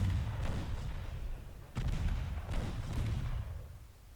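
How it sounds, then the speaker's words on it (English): Naval main guns fire in Ultimate Admiral Dreadnoughts, with several heavy booming salvos, the strongest near the middle, rolling one after another over a constant low rumble of sea battle. "main gun's firing"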